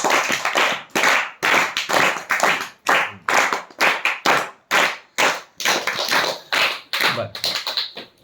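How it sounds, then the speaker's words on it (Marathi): A small audience claps for a young girl after her short impromptu talk about her sister, a burst of uneven handclaps with distinct loud slaps, close and alone with no talk. "आपण टाळ्या वाजवूया चिवसाठी"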